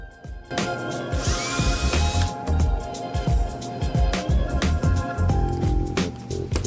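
A power drill drives long 2.5-inch wood screws with washers to fasten wheels onto a wooden project, sounding in short whirring bursts with clicks and knocks between them, loud and close.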